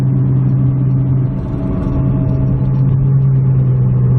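Car cabin drone while driving along Trans Mountain road, a steady low engine hum and road rumble with a constant tone, no one speaking.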